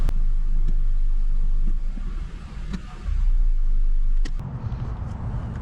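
A Nissan Sentra with a CVT transmission idles steadily while being shifted through each gear with the brakes held, a low continuous engine rumble with small dips and rises in level and a few faint clicks.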